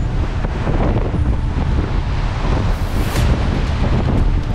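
Strong wind roars across the microphone over the rush and slap of choppy sea while a sailboat moves along under reefed sail, a constant loud wash with no voices.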